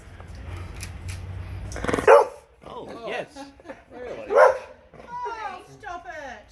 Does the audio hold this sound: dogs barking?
yes